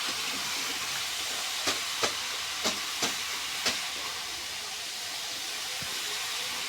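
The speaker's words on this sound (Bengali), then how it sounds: "ডাঁটাটা একটু কষে দিব।" Vegetable stalks sautéing in a pan with ginger garlic paste, a steady broad hiss of frying with several sharp clicks or taps from stirring, close and without talk.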